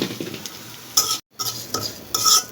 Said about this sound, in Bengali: মরিচগুলো যখন ভাজা হয়ে যাবে তখন চিংড়ি শুটকিগুলো দিয়ে দেব।